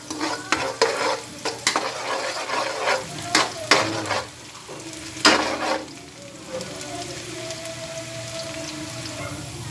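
Minced garlic sizzles steadily in a pan while a utensil scrapes and clacks against it in a quick irregular rhythm, then the frying settles into a continuous hiss.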